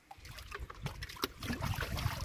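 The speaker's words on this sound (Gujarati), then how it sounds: "એટલું પાણી હાલી જાય કેનાલમાં" Water flowing along an irrigation canal, a close, continuous rushing trickle with uneven sloshing splashes throughout.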